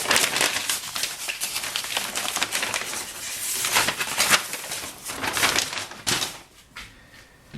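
Old deteriorated books being unwrapped from their wrapping: dense, close crinkling and rustling of paper in quick bursts that carry on throughout, then ease off near the end. No one speaks.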